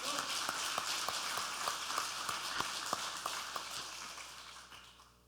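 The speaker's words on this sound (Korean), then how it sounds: "우리 다시금 참부모님께 존경과 감사의 영광의 박수를 올려드리겠습니다" Church congregation applauding in a sermon hall, a dense steady wash of clapping with a few sharper individual claps standing out, gradually thinning toward the end.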